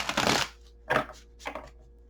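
A deck of tarot cards is shuffled up close in three quick riffling bursts: a longer first pass, then two shorter ones, with quiet pauses between.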